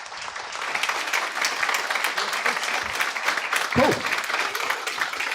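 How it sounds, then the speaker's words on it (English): Audience applause at a design systems seminar in London, a steady wash of clapping from a room full of people, fairly close and sustained, with a brief spoken word near the end. "A round of applause."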